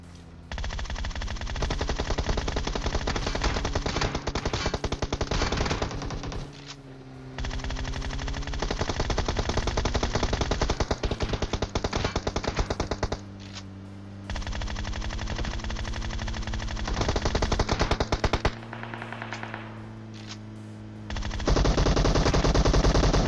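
Sustained bursts of rapid automatic gunfire in PUBG Mobile, loud and nearly continuous, broken by a few brief pauses, with engine-like hum beneath.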